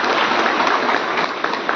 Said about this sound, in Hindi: मतलब ताली बजाकर MP साहब की सोच का स्वागत कीजिए।